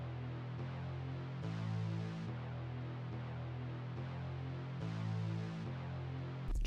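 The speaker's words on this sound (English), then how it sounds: "Next I added this bass one shot that sounds like this." Bass one-shot in a hard-hitting FL Studio beat, a deep sustained tone shifting pitch in a repeating tense progression, quiet overall and alone, ending with a brief burst.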